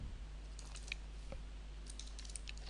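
Quiet clicking of computer keyboard keys while entering a command, a few scattered short bursts of keystrokes over a steady low hum.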